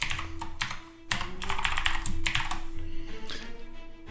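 Rapid keystrokes clatter on a computer keyboard in bursts of irregular typing while a name, username and password are entered during a local account setup, fairly close with a steady low hum underneath.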